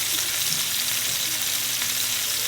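Peaches caramelizing in a frying pan give off a steady, dense sizzle that holds at an even level throughout, close and unbroken, with no talk over it.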